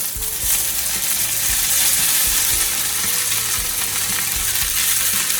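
Radicchio and bacon frying in a skillet, a loud continuous sizzle with crackles and occasional scraping clicks, close up and without talk.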